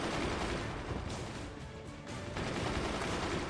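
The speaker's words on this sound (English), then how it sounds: "those machine gunners on the top of the Bulbaratus base cannot really be destroyed" Machine gun fire in the physics-based fort-building strategy game Forts, a dense, sustained rattle of rapid shots mixed with bursts and booms, steady and moderately loud with a brief dip partway through.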